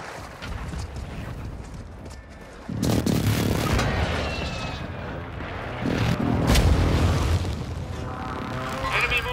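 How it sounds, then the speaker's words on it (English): Airstrike blasts in Call of Duty: Modern Warfare 2 Resurgence, deep booming bursts that swell around the third and sixth seconds amid dense battle noise, with voices talking over the gameplay. "Hostiles called in an airstrike."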